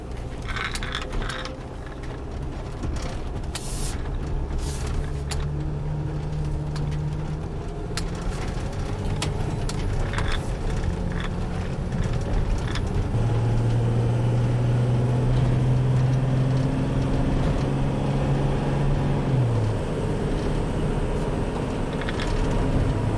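A Mercedes Sprinter van, just repaired for an oil cooler leak with oil pan replacement, is driven on a test drive, its engine humming steadily under road and cabin noise and rising in pitch as it accelerates.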